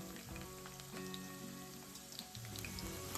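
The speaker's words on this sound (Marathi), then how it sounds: "कांदा चांगला गोल्डन ब्राऊन होईपर्यंत आपण फ्राय करून घेऊया" Chopped onions, about two large ones, fry with garlic in a pan for a chicken fry, giving a steady, fairly quiet sizzle with a few soft crackles and no talk.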